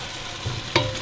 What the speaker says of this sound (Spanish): Voy a agregar las papas en cuadritos que les había dicho para que se vayan cocinando.